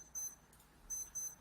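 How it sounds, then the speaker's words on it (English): Three short high-pitched electronic beeps sound in a quiet room, the first near the start and two more close together toward the end, faint and clean with no talk. "the beeping is on our end"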